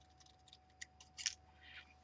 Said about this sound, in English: you're just snipping it halfway like that, and then you're going to cut to one corner and then cut to the other corner